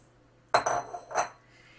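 Halved grape tomatoes tipped into a big bowl: a brief, close clatter with two quick clinking bursts against the bowl, then quiet.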